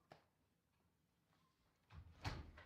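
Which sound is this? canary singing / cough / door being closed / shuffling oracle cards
door being closed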